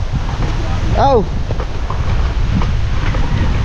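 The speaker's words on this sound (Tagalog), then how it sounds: "Lakas ng hangin." Strong wind buffets the microphone with a steady, loud rumble throughout, near a boat on open water, while a man briefly exclaims over it.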